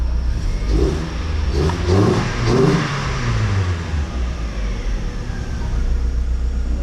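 A front-end DC2 Integra engine with an upgraded fuel pump runs close by, revving briefly a few times before settling into a steady, low idle.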